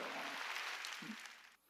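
Audience applause during a Korean church sermon: a steady broadband patter of clapping held at even loudness for about a second and a half, then cutting off abruptly.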